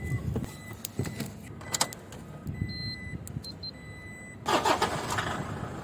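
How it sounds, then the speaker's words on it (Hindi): Toyota Hilux 2700cc cranks and starts during a fan belt change in the desert, with a brief whirring crank and the engine catching near the end, amid close clicks and handling noise. "अब इसको स्टार्ट कर लेते हैं, स्टार्ट करके फिर मैं आपको दिखाता हूँ।"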